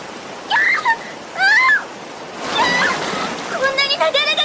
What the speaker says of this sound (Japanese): こんなに流れが急だなんて私聞いてません。